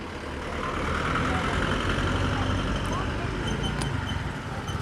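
A car passing along a street in Beypazarı, a faint rumbling engine and road noise that rises and then fades in the distance, with no talk over it.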